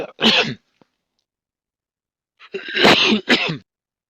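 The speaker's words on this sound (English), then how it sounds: "You've coughed your mic off." Two sharp, explosive coughs into a microphone, the first short and single, the second a longer burst with a quick follow-up, separated by silence.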